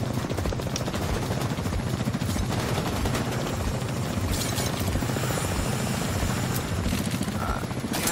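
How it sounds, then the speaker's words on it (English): A helicopter in The Division 2 thuds overhead with a loud, continuous rotor chop, mixed with bursts of gunfire during a firefight. "Chopper inbound."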